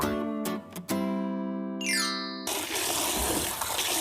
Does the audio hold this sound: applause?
no